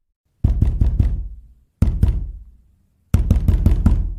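Loud banging on a dormitory door comes in three bursts of rapid heavy knocks, four or five blows each, separated by short silences with a brief ringing decay after each group.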